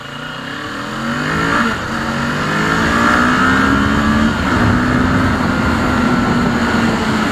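A Kawasaki motorcycle accelerates hard on an empty road, its engine rising in pitch through gear changes, loud and close with continuous wind roar and no talk.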